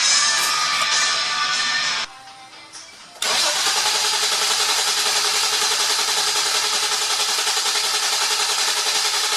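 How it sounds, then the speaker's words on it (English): A Hyundai Genesis Coupe 3.8L engine with a newly fitted turbo cranks over loudly and evenly on the starter, stops for about a second, then cranks again in a long steady churn, close-up. "we're going to crank it a little bit more so we can get some fluid inside the turbo"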